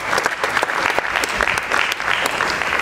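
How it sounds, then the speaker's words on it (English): Audience applause at a film festival, a full burst of many hands clapping that holds steady and fairly loud across the moment. "another round of applause for"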